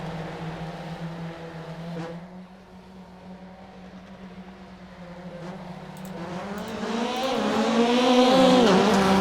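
Rallycross Lites cars in a NASA heat at Wild Horse Pass, Arizona, engines droning at a distance and then rising into a louder, swelling roar as the pack launches.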